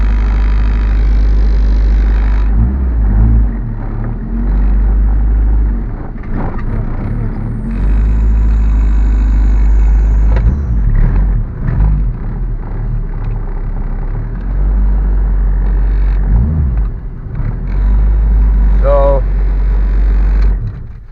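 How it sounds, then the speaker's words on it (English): A Honda Civic engine idles with a low rumble, revving briefly several times as the car shifts back and forth, with people talking over it. "We're going to move the car back and forth to see where the wheel is straight."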